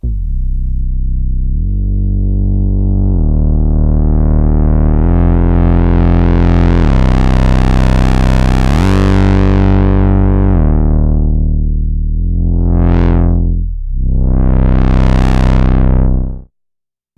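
A Behringer Model 15 synthesizer with a warm Moog-like tone plays a loud, sustained buzzy line. The filter sweeps steadily upward, then rises and falls in quick swoops before the sound cuts off abruptly, with no talking.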